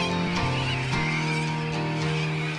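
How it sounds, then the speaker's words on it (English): A noisy flock of corellas swarming between roosts calls at once, harsh overlapping squawks and screeches layered into a continuous racket. "we caught a flock of corella birds swarming between roosts. They are mesmerizing and incredibly noisy."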